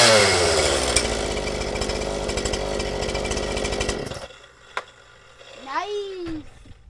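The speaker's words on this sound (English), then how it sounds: "reassemble the saw now that I've cleaned it up, and see if I can get it to run" A Poulan Pro 5020 chainsaw, just cleaned and reassembled, runs loud and close with a steady two-stroke engine drone for about four seconds, then cuts out, leaving near silence with a brief click and a faint high whistle.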